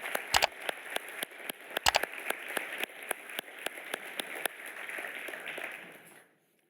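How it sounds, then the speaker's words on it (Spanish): Scattered applause from a church congregation, with sharp individual claps over a soft patter of hands, fairly distant and fading out at the end. "Vamos a darle un aplauso a ellos hoy."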